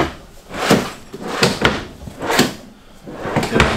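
Several drawers in an RV kitchen slide open and shut in turn, each ending in a soft thud, about four in a row at close range.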